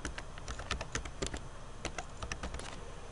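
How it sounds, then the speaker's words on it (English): Keys being typed on a computer keyboard in quick irregular bursts of close, crisp clicks, heard alone with no voices. "and then let's type in here picks"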